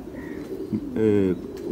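Cheena breed pigeons cooing in a loft, a soft warbling coo rising briefly and clearly amid low background murmur, with a faint earlier call.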